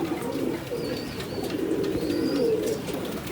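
Pigeons coo in low, throaty murmurs around their cage, a steady layered burble close by with faint higher chirps now and then.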